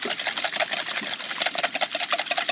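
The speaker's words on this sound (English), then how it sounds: "give them a good whisk till they go very pale and very fluffy" Eggs whisked in a bowl for a Yule log sponge, making a rapid, steady, rhythmic whirring that continues close and evenly throughout.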